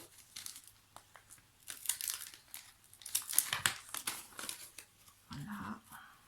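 Advent calendar pouch being handled and cut open with a cutter, close crinkling and crumpling of plastic in irregular bursts with a scraping tear, and a brief muffled voice near the end.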